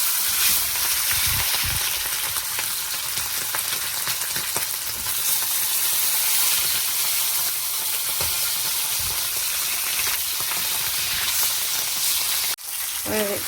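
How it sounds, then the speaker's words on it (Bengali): Loud, steady sizzling of tilapia frying in hot oil, a dense continuous crackle that goes on throughout, with a brief clunk near the end. "তাই মাছটা ভেজে নিচ্ছি। তেল গরম হয়ে গেছে।"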